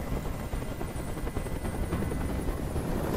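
Steady, loud rotor thrum of a helicopter close overhead in the video game Detroit: Become Human, a continuous chopping drone with no voices.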